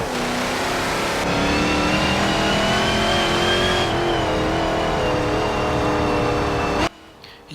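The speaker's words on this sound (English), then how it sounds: "You can hear that engine go, that is mad." A race car engine in the video game Forza Motorsport 7 revs hard and continuously on an oval track, pitch climbing and shifting, loud and close for about seven seconds before cutting off abruptly.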